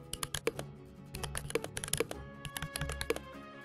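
Simulated mechanical keyboard typing played through Mechvibes software, a fast irregular run of crisp clacky keystrokes, close and clear with no talking.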